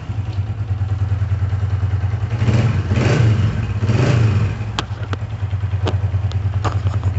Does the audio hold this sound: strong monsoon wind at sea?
no